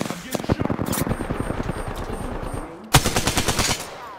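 Video game machine gun fire rattles in rapid close bursts, a long stuttering stream followed by a short pause and a second loud burst, with a voice talking over it.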